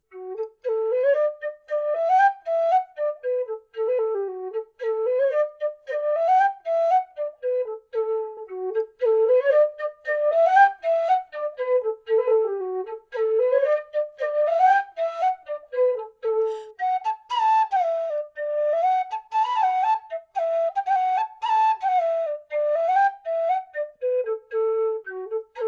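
A Reeves aluminium low D Irish whistle plays a fast, lilting tune, its breathy low notes flowing in quick ornamented runs that rise and fall, close and solo for the whole stretch.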